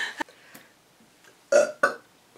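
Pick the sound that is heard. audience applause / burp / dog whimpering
burp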